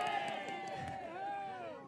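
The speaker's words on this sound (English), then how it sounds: "Big round of applause there for our winning connections." A racecourse crowd cheers and applauds the race winners at a Duhallow meeting, a dense, fairly distant roar of voices and clapping that holds steady throughout with no single voice standing out.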